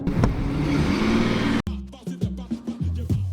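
An SUV engine runs and revs up close, then cuts to a sequence of uneven thumps and rumbles as the vehicle moves off.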